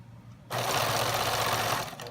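A sewing machine stitching on top of quilt fabric, starting abruptly after a short quiet moment and then running as a steady, close, rapid mechanical whir with no voices over it.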